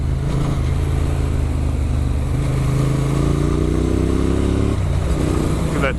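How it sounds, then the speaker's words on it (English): Big heavy motorcycles with loud exhausts race through the bush, a continuous close engine roar with a rising, revving tone as the bikes accelerate, steady and loud throughout with no voices. "We're racing through the bush on big fat heavy bikes with loud exhausts."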